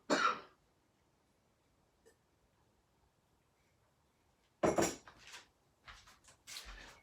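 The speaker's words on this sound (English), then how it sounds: "Why do you always get a coughing fit when you're recording?" A short cough, then a long quiet stretch, then a burst of coughing and throat clearing with some clattering, fairly close.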